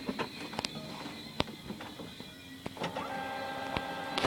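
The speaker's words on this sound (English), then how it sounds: "it was sucking up all the old inks right here" An ink-tank printer primes and draws ink from its tanks, making a close whirring mechanical hum with sharp clicks and ticks scattered throughout and a steady motor tone toward the end.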